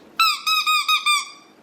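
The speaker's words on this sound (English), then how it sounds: "Do you want the squeaky one?" A dog's squeaky toy squeaks loudly and close, giving five quick, bright, tonal squeaks in a row, alone with no talk.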